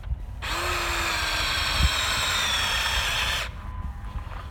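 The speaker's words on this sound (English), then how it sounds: "it's doing all this with a drill that is literally burned up" A Drill Till attachment spun by a burned-out drill churns nice soil in one continuous loud whirring burst of about three seconds, which starts and stops abruptly amid quieter outdoor background.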